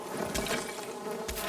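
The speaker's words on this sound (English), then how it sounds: "Bees, bees, bees, bees, bees, bees." Bees buzzing in a zombie apocalypse video game, a faint, steady drone with a light trickling texture, heard alone at low level with no talk.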